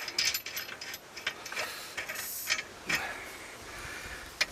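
A bolt on the seat mount of an old rusted Ford tractor is tightened with a ratchet, giving quick irregular clicking bursts up close with brief pauses between them, no voices.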